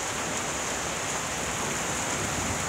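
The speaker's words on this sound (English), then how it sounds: "It's raining." Steady outdoor rain falling hard enough to resemble a waterfall, wetting garden plants, a dense even hiss with no voices.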